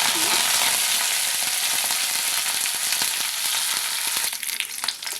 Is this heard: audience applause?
no